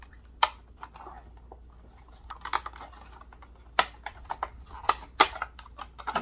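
Tangle Teezer curl brush packaging for 3C to 4C hair being opened up close, with sharp plastic clicks, snaps and crinkles in scattered bursts and no talking.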